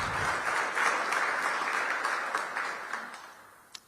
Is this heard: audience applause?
yes